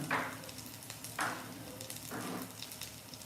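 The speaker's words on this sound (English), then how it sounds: "And let that saute up" Green and orange bell peppers hitting a hot pan to sauté, three bright sizzling bursts spaced about a second apart, each fading into a steady soft fry.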